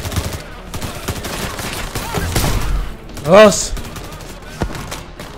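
Bursts of gunfire crack through a Payday 3 heist, rapid shots and a fusillade mixed with thuds and game sounds, with a brief spoken word over the action.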